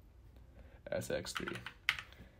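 Keys clatter on a computer keyboard as a pip install command is typed into a terminal, with quick uneven clicks up close and a person speaking over them.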